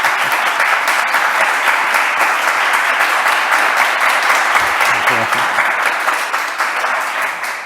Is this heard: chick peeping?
no